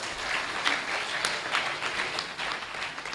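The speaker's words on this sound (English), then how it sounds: "Shall we give him another round of applause?" Sustained applause from an assembled crowd at a university congregation ceremony, a dense steady wash of many hands clapping at moderate distance throughout.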